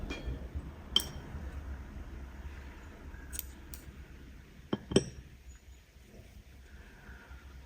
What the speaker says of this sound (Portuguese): essa é a última carreira nessa cor, então eu posso cortar o meu fio